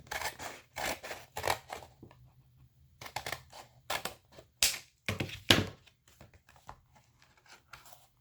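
Scissors cutting paper in a series of sharp, close snips arriving in quick bursts with short pauses between, crisp and fairly loud against a quiet background.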